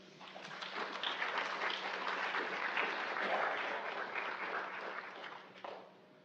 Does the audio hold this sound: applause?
yes